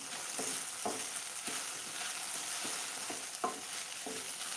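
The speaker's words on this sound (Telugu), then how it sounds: "డెస్టేటెడ్ కోకోనట్ వేసుకొని మిక్స్ చేసుకున్నాం" Desiccated coconut is stirred into okra curry frying in a pan, with a steady loud sizzle and a series of scraping spoon strokes against the pan at an irregular pace.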